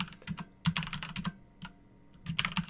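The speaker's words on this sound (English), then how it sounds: "If I can type in the right password," Someone typing a password on a computer keyboard while setting up a router: brisk, uneven key clicks in short bursts with a brief pause, close and clear, with no talking.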